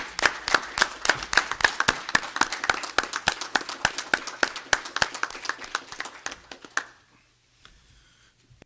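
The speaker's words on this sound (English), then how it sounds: "So let's give them a round of applause." Audience applause for Veterans Council members at a city council meeting: brisk, busy clapping from a modest crowd that carries steadily for several seconds, then stops abruptly, leaving a quiet room.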